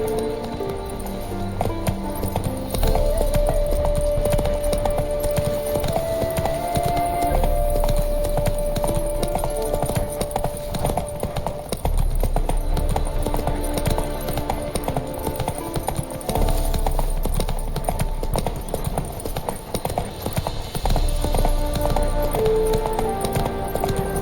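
Roach the horse in The Witcher 3 trotting with continuous rhythmic hoofbeats under a musical score, steady and fairly close for the whole stretch.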